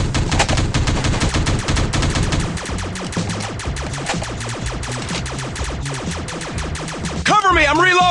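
Rapid automatic gunfire in a teddy bear gun strike video game, loud dense bursts of shots in fast rhythm, a voice calling out over the shooting near the end.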